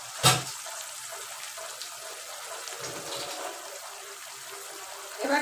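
Tap water runs steadily into a sink while a bowl is rinsed during cooking of a spiced katla fish head dish, a continuous close splashing wash with a sharper clatter near the start and end.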